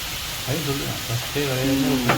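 Hot oil poured over whole spices (cinnamon, pepper, cumin, cloves, cardamom) in a pot for fish biryani, sizzling and crackling steadily at close range, rising louder toward the end.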